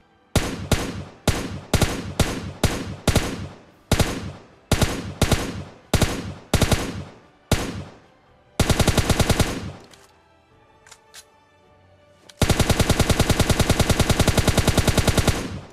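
Gunfire in the PUBG Lite video game: a rhythmic series of loud single shots followed by two long sustained bursts of rapid automatic fire, with a brief quieter gap between them.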